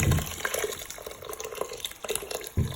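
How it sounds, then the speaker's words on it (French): Sauce poured over rice inside a Cookeo multicooker, giving a soft, close liquid pour with small drips and splashes over a few seconds. "Et là je vais venir verser ma sauce"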